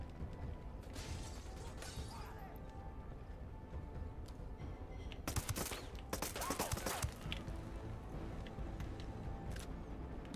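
Gunfire in the video game Ghost Recon Wildlands: sustained bursts of automatic fire with mechanical rattles, heaviest in the middle stretch, over a steady background bed of game ambience.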